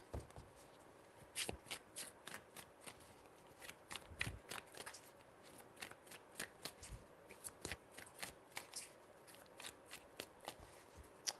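A deck of cards is shuffled over and over in quiet, crisp riffling bursts that come in a steady, uneven rhythm.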